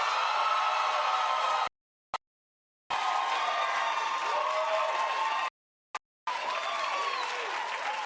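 A studio audience breaks into a round of applause, with dense, even clapping broken by brief silent cuts before it resumes at moderate loudness.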